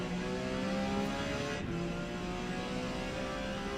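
Porsche 956 race car in Forza Motorsport at Mid-Ohio on a damp track, its engine holding a loud sustained drone that climbs in pitch as it accelerates hard, with a brief dip midway.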